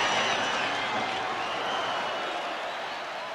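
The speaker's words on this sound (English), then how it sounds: "Listen to this crowd." A boxing arena crowd in the Rocky Balboa game for PlayStation Portable cheers in a continuous broad roar that holds steady and eases slightly toward the end.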